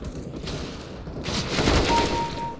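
Gunfire in Counter-Strike: Global Offensive: a sustained spray of game gunshots with a louder burst partway through, steady and close throughout, with no talking.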